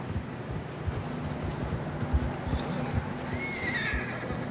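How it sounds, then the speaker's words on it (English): A horse neighs in a video game while hooves clip-clop along tracks, the whinny rising clearly above a windy outdoor bed and steady hoofbeats. "I don't think we can go much further on the horses"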